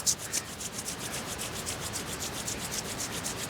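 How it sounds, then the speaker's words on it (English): Palms briskly rubbing together in a fast, even back-and-forth rhythm, a close, continuous dry swishing with no talking. "Let's begin to rub our hands together from here."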